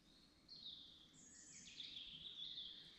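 Birds singing in woodland, a few high clear whistled phrases over a quiet, faint background, with no voices.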